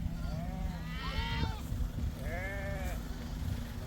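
A flock of sheep bleats nearby, two or three wavering, drawn-out calls rising over a constant low rumble of background noise.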